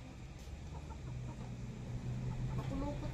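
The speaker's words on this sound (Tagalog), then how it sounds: "So ayan, aking ibinabaon at dyan ko itatali ang manok." A chicken clucks in soft, scattered bursts while being tied to a stake outdoors, fairly faint under a steady noisy background with low handling sounds.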